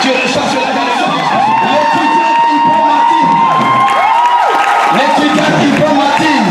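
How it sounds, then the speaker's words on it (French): A church congregation acclaims and cheers at a graduation ceremony for a prophetess, with loud, sustained whoops and shouts from a crowd filling the room and voices rising throughout. "Dis maman Naomi, on peut acclamer le Seigneur"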